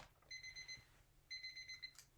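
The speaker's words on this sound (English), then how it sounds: "Oh, timer, Deborah." Kitchen timer alarm going off in two short bursts of rapid high-pitched beeping separated by a brief pause, faint against a quiet room with low background hum.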